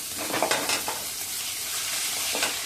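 Cumin and grated ginger sizzle loudly in hot oil in a pan while being stirred, a dense continuous frying hiss with a few scraping strokes, close and without any talk.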